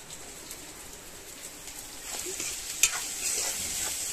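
Ker, a desert vegetable, frying in oil over a clay wood-fired stove: a steady, soft sizzle that swells slightly midway, with a faint clink from a spoon, heard up close.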